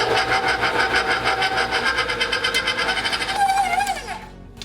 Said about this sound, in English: I'm gonna bring this over to my dough hook and use a stand mixer